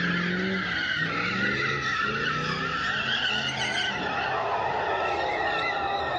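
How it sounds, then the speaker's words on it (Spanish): Cars skid and squeal their tires nonstop while doing stunts at an illegal nighttime street race in a Kmart parking lot in Bellflower, with loud engines and screeching filling every moment. "Unos segundos de adrenalina causado por los choferes haciendo piruetas con sus autos"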